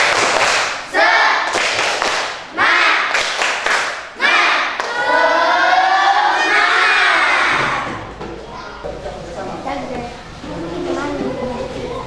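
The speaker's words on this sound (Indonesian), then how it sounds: "kita tepuk semangat dulu. Tepuk semangat." Elementary school class doing a rhythmic spirit clap: loud sharp bursts of group clapping in a patterned beat, then children chanting and shouting together, fading into murmured voices.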